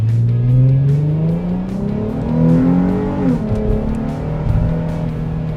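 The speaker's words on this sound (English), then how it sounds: "Nice exhaust note." A 2004 Nissan 350Z Touring's 3.5-liter V6 revs up through its exhaust, the loud, close engine note rising and falling in smooth sweeps with no talking.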